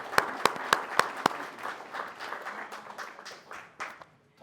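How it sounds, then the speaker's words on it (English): Seminar audience gives a round of applause, opening with several sharp, loud claps over a crowd of hands, then thinning into scattered clapping that fades out. "A nice round of applause for Todd"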